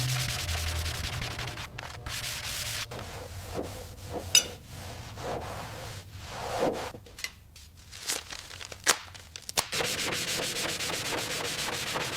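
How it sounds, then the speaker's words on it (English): Steady rubbing and scraping of hand-sanding a Bondo-filled body panel on a rusted Model AA mail truck continues throughout, with irregular strokes and occasional sharper scratches. "After weeks of sanding"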